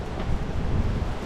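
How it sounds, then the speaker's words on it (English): Strong gusting wind at a campsite, buffeting the microphone with a dense, low rumbling roar; steady and loud, with no clear separate flapping of the awning and no talk. "So the wind has absolutely just picked up like crazy, and you can see the awning, it's flapping around quite a lot"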